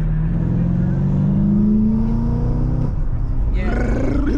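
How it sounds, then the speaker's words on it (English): A BMW E92 M3 exhaust revs loudly up close, the engine note climbing and then dropping away, with voices talking over it. "it makes the exhaust just sound so hearty"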